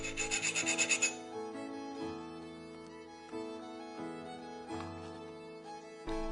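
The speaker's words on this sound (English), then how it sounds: "To test the hardness of the blade, I use my Japanese Rockwell files." A Japanese Rockwell hardness file is drawn across a Viking axe blade. A quick burst of rapid scraping strokes opens the clip, followed by slower, separate rasping passes with short pauses between them.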